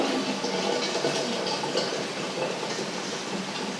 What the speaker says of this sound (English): I will drain out the water